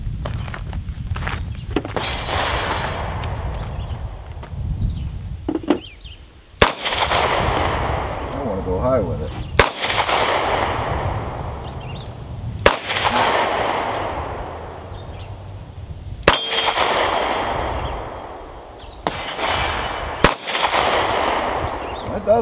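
Gunshots from a Smith & Wesson Performance Center .38 Special snubnose revolver firing +P loads at a range, five sharp, loud reports spaced a few seconds apart, with shuffling and background noise between shots.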